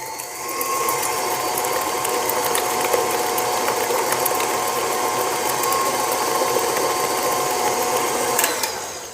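A stand mixer churns molasses cookie dough with a steady, loud mechanical whir and a ratcheting gear hum that runs unbroken for several seconds, with no talking.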